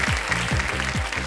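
Studio audience applause on the KBC Season 15 quiz show, a dense, steady burst of clapping lasting just over a second, with low musical tones running beneath it.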